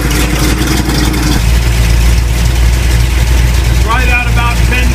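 A 350 Chevy engine idles at 800 RPM with a steady low rumble, loud and close, while someone talks over it throughout.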